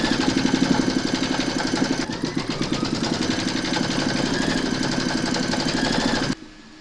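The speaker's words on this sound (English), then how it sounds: "Pop your hoop into your machine and stitch round number 3 to secure them." An embroidery machine stitches Christmas bottle tags held in a hoop, a steady rapid mechanical rattle of needle strokes running evenly for several seconds before stopping abruptly.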